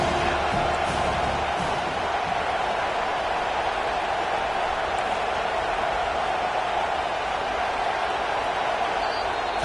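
A stadium crowd at a Florida vs Penn State college football game gives off a dense, constant roar, loud and even throughout, with no distinct cheers standing out.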